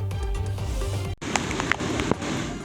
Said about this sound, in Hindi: पालघर जिले में बारिश कहर बनकर बरस रही है।